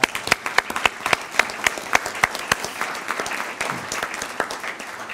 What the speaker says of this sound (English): we can all give her a round of applause.